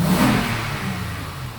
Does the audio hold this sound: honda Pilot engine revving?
yes